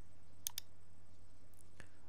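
Two or three faint, crisp computer mouse clicks in a quiet room, heard alone against a low background hum.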